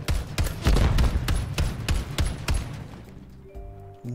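Rapid bursts of light machine gun fire in Call of Duty Modern Warfare 3, sharp cracks in a steady rhythm for about three seconds, then tapering off into quieter ambient game sound.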